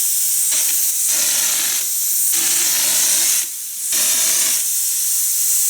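An air compressor drives a texture sprayer laying down orange peel wall texture, giving loud broadband hissing bursts that start and stop several times, with brief quieter gaps between sprays.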